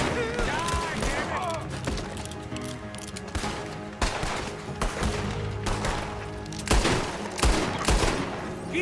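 Rapid gunfire fills a Red Dead Redemption 2 town shootout, with repeated cracks and bursts running continuously over busy game noise and some shouting.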